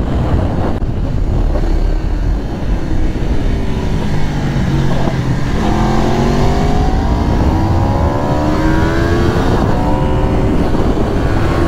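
Motorcycle on Pirelli Supercorsa V4 tyres riding fast on a track, a loud engine roar with rising revs and gear shifts under heavy wind noise.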